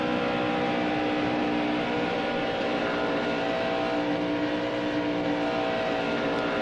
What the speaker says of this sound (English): Another car is going to come onto the track.